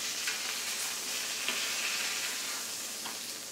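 Chicken pieces and vegetables for poulet basquaise sizzle in a frying pan, a steady dense hiss and crackle, close and loud, with faint stirring scrapes now and then.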